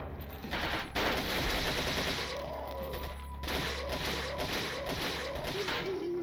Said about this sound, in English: getting on the Gatling gun